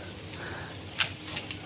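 Large farmed crickets chirping steadily, a continuous high shrill trill with a few brighter chirps popping out, close and moderately loud.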